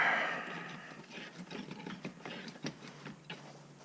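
A restored Rigid pipe wrench being worked, its stiff adjusting mechanism turning with a quiet run of small clicks and grinding ticks, fairly close and faint with no talk.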